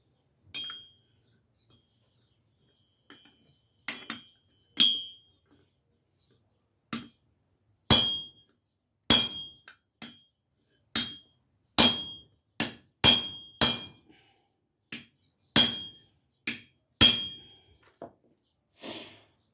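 Sharp metallic hammer strikes on a door hinge pin resting on an anvil, sparse at first then coming in irregular bursts, close and loud with bright clanging overtones.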